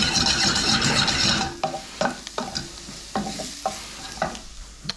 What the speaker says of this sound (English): We really want those leeks and garlic to just kind of soften and not brown too much